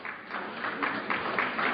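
An audience at a talk on psychiatry and mind control breaks into steady, dense clapping that holds for under two seconds, fairly loud and with no voices over it.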